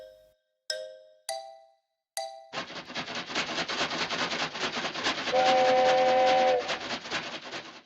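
Three clear bell dings ring out alone, then a steam train's loud continuous chuffing and hiss takes over, with a sustained steam whistle sounding over it near the end.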